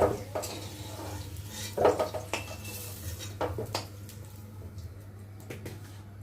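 Fried potatoes lifted out of a pan, with a few clinks and scrapes of a metal utensil against the pan, loudest early and fading to a quiet background hum.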